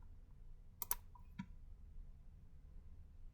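Soft computer keyboard typing, a few quiet key clicks clustered together ending in a single firmer press of the enter key, close and faint against a low room hum.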